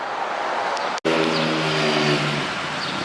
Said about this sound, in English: these people with loud bikes, they give the sport a bad name